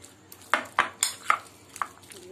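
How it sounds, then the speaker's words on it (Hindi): A spoon knocks and scrapes against a bowl about five times while mixing a chilli chicken marinade, sharp close clinks with short pauses between. "मैं अच्छे से इसे मिक्स कर दे रही ताकि इसके अंदर अच्छे से चला जाए"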